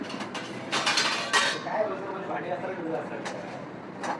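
Dishes and cutlery clatter and clink in short bursts close by, mixed with background chatter.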